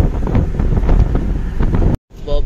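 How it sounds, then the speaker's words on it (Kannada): Wind rushes into a moving diesel vehicle on a long highway drive, a loud, steady buffeting rumble close to the microphone that cuts out briefly near the end, then returns. "ಗಾಳಿ ಒಳಗಡೆ ಬರ್ತಾ ಇದೆ"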